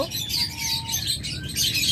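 A pair of caged cockatiels or lovebirds chirps rapidly, with bright overlapping tweets and calls close by, steady and busy throughout.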